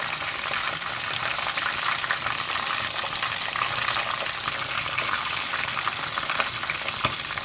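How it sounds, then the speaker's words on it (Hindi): Chicken for Lahori charga fries in hot oil, giving a dense, continuous close sizzle with a bubbling, gushing texture and occasional sharper crackles, with no voices. "साइड से अच्छे से फ्राई करके इसे कलर दे लें"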